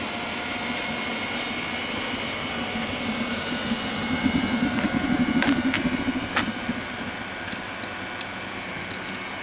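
A blower runs in the chimney of an LNER A4 live-steam locomotive while its charcoal fire burns. It makes a continuous airy hiss and hum, swells to a louder rumble midway, and carries scattered light clicks and ticks, with no talk.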